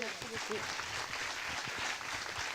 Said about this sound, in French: Je crois qu'on peut l'applaudir même à distance.